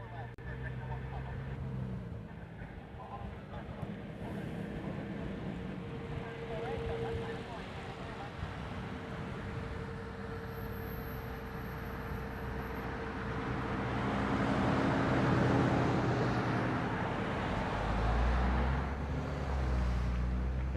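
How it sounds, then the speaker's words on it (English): An airliner roars overhead during a go-around above Honolulu airport, a broad rising engine rumble that swells louder toward the end, with people talking faintly under the noise. "There's the one that's doing the go-around right there."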